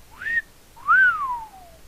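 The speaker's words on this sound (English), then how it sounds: "Wasn't the best whistle." A person whistles two close, clear notes, a short rising one and then a longer rising-then-falling glide, alone against a quiet background.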